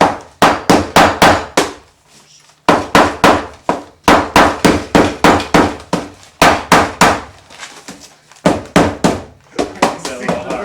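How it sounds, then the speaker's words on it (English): A heavy hammer repeatedly smashes a glass pitch lap wrapped in newspaper at a telescope mirror-making workshop, loud rapid blows in bursts of five or six with brief pauses between them. "Ray is a firm believer in the bigger hammer theory"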